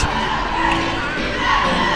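A gym crowd at a high school basketball game, Anderson County Mavericks against Oneida Indians, giving a steady, loud roar of cheering and shouting throughout.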